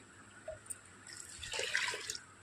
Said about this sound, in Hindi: अब डाल देती हूँ पानी।